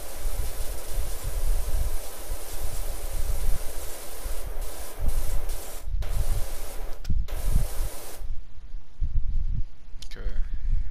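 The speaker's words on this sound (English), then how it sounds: "I'm just spraying and praying." A pressure washer spraying in the video game Power Washing Simulator gives a steady, loud hiss that runs almost throughout, with brief cut-outs near the middle and an abrupt drop toward the end.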